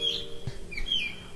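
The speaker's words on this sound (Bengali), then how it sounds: "পাখি এসব ডাকছে" Birds calling around a forest campsite at Kakrajhore in Jhargram, a few thin high chirps and whistles over a quiet steady hum, fairly close and brief.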